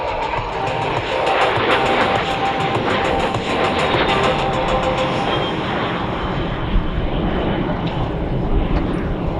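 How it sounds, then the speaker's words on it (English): Powerful jet roar of a Cessna A-37 Dragonfly at the Australian International Airshow, a loud continuous broadband rush that holds steady throughout. "great for air shows because it's so loud and impressive"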